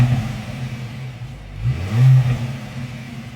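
The four-cylinder engine of a 2025 Mercedes-AMG GT50 growls at idle, then rises in one short rev before settling again, heard close and alone.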